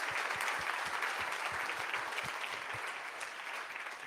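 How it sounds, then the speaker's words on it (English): A conference audience at RightsCon applauds its sponsors with a steady, even spread of clapping that sounds full and somewhat distant and fades a little toward the end, and nobody talks over it. "help us in a round of applause for our sponsors who helped us along the way"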